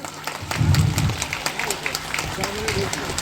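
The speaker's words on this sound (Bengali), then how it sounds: "দয়া করে এদের দুজনের জন্য একটা জোরে করতালি দেবেন" An audience at an art school's annual event gives a round of applause, steady clapping from many hands with a brief burst of low crowd noise near the start.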